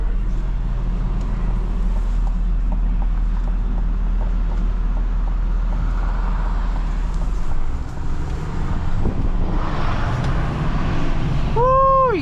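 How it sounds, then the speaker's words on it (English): A 2026 Chevrolet Silverado 2500HD Trail Boss pickup truck engine drones steadily as it drives, with road noise throughout and a rising turbo whine near the end as it accelerates. "guys hear that turbo?"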